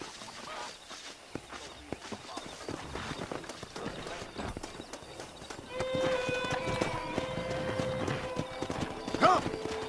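A pack of wild horses in the Red Dead Redemption video game clatters past with dense clip-clopping hooves and a whinny near the end, fairly close and loud, with some voices mixed in.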